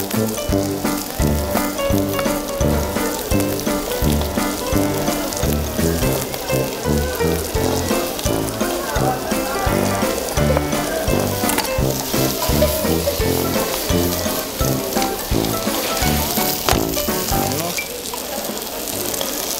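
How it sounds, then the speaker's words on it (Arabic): Fish frying in a hot pan during a home cooking show, a loud, steady crackling sizzle with dense popping that runs throughout, close up, easing slightly near the end. "هاي مليح بدات المقلى."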